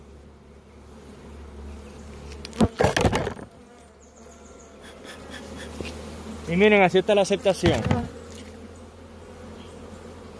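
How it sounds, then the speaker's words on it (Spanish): Honeybees buzz steadily around a hive frame while grafted queen cells in plastic and wax cups are inspected. Louder close bursts of buzzing rise over the hum, and someone speaks briefly. "Retiramos un poquito el excedente de abejas."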